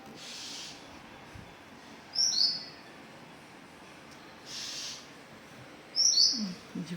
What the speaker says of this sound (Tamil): இந்த குருவி அதை பாருங்க கத்திக்கிட்டு நிற்கிது, தெரியுதா?